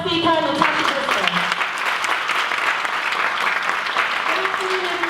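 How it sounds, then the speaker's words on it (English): A large audience claps steadily for a speaker at a 2019 talk, a dense, sustained patter of hands that fills the room while voices talk over it at the start and end. "Can we give a big round of applause for our first speaker, Natasha Grissom?"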